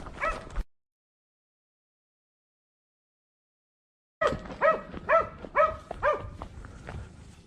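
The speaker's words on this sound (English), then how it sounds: "Suddenly, the dogs barked loudly." Hunting dogs on a wild boar hunt: one bark, then after a silent gap, a rapid series of sharp, loud barks close by.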